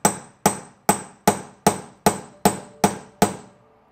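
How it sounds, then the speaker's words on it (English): Nine sharp metallic hammer taps on a socket, driving it down on a Ducati motorcycle, land at a steady, even rhythm, each ringing briefly, close up with no talking. "then take a hammer and lightly tap it down"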